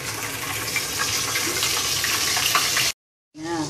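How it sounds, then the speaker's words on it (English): Fish frying in hot oil in a pan gives a loud, steady, close sizzle that cuts off for a moment and then resumes. "Now, the pan is already hot and the oil,"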